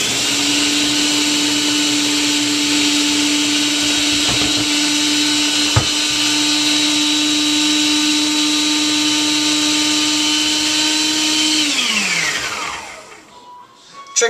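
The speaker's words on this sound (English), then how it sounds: "if you're using a food processor" A food processor whirs steadily at high speed while blending a green meatloaf mixture, a loud, constant motor whine that holds for several seconds and then winds down as the machine shuts off, with no talking.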